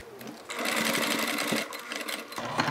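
A sewing machine stitches vinyl for a toiletry bag in a quick, steady burst of rapid stitching, close and fairly loud, with a brief pause near the end.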